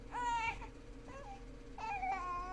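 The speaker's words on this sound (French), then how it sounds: "Oh non, pas un bruit de bébé, sérieusement." A baby cries in the horror game Hotel Remorse, two wailing bursts with a whimper between them, fairly close and clear over a low ambient hum.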